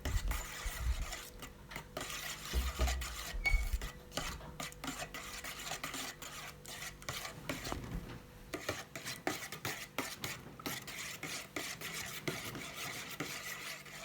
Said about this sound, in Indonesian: Lalu kalian aduk sampai merata